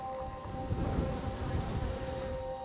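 Faint, steady buzzing of honeybees hovering close by, a droning hum with a couple of sustained tones and no talking.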